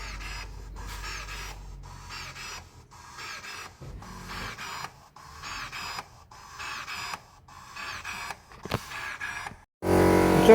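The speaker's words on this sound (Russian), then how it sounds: "когда идет прокачка актуаторов." Brake actuators on a Toyota hybrid such as a Prius whir and buzz in repeated electric pulses during a bleeding procedure, a close mechanical droning that starts and stops in short bursts, with no talk over it.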